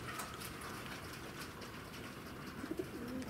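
Pigeons coo faintly in a loft in the morning, a few soft low calls near the end over a steady wash of background noise.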